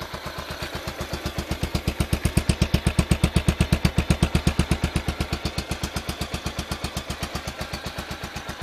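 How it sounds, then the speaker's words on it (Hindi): Motorcycle engine idling on its stock exhaust, a close, loud, steady rapid thumping pulse that swells slightly mid-run and eases back, with no talk. "ये मेरी बाइक का नॉर्मल साउंड है।"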